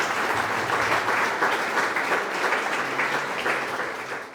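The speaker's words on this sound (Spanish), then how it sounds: "un aplauso para ustedes" A congregation in a chapel during Mass breaks into a round of applause, a dense, even wash of clapping that holds steady for a few seconds before tapering slightly.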